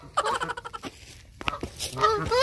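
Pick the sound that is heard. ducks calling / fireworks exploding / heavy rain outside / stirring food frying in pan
ducks calling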